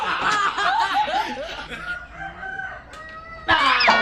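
A rooster crows in drawn-out, rising calls nearby, with chuckling clucks in between and a last loud crow near the end.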